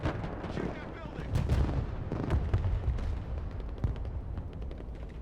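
Rapid gunfire and heavy blasts from troops shooting up a building in the military strategy game Broken Arrow, a dense run of cracks and booms over a rumbling battlefield, with voices talking under it.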